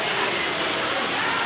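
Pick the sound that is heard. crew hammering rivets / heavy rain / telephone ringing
heavy rain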